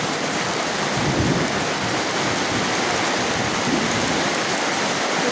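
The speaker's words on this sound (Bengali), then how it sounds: "কত পরিমাণ বৃষ্টি হচ্ছে" Heavy rain pours steadily with a dense, constant roar, close and loud throughout, with no voices.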